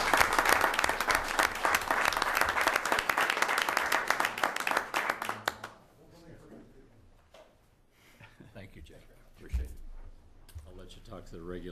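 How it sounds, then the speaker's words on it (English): A warm round of applause for a trustee at a college board of trustees meeting, dense steady clapping for about six seconds that then stops abruptly, leaving quiet room noise, shuffling and a few faint sounds. "Trustee Mitchelson deserves another very warm round of applause at this point."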